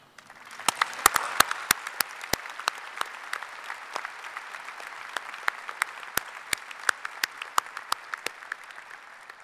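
Audience at a spring university convocation for a college of liberal arts and sciences breaks into steady applause, a dense wash of many hands with sharp, distinct individual claps standing out, sustained at moderate loudness throughout.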